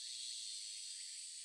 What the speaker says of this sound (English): The voices of the cicadas permeating in my room